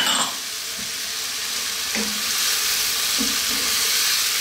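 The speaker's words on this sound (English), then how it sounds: "So remaining on the high heat, 2 to 3 minutes now, stirring all the time, we're done." Beef and broccoli stir-fried over high heat in a wok with soy and oyster sauce, a steady close sizzle broken by a few scraping stirs of the spatula, with no talking.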